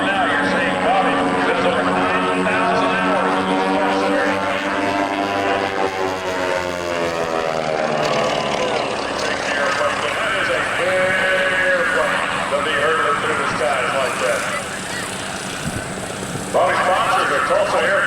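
A Beech Model 18 Twin Beech twin-engine airplane performs aerobatics at an airshow, its propeller engines droning loudly and steadily with shifting pitch for the whole stretch, under the constant voice of a PA announcer.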